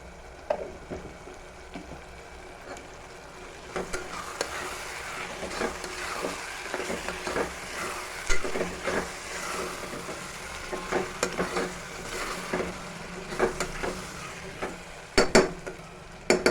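Country chicken curry sizzles and fries in a pan while a spatula stirs it repeatedly, with close scraping clatters against the metal over a constant bed of frying hiss.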